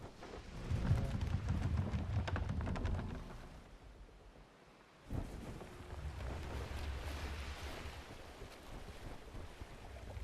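A boat sailing through water in ARK: Survival Ascended: continuous rushing wash and surf with wind noise, dipping briefly midway before the steady churn resumes, close and full, with no voices.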